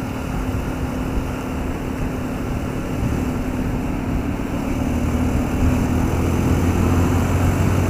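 A 2015 Honda CB150R motorcycle engine drones loudly and steadily throughout a test ride, with a slight rise in revs toward the end and no voices.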